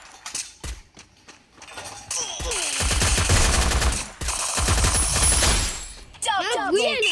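Gunfire from a sniper-armed online shooter game rattles in bursts through the middle, loud and sustained, with brief quieter gaps, mixed with other game effects and a warbling tone near the end.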